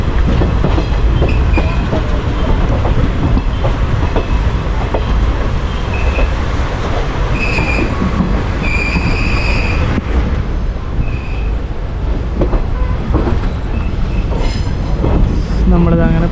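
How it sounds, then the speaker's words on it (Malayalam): A passenger train pulls into Palakkad Junction railway station, heard from inside a crowded general-class coach as a loud, continuous rumble with wheel clatter and brief high metallic squeals. "Palakkad junction railway സ്റ്റേഷനിലോട്ട് എത്തിക്കൊണ്ടിരിക്കും."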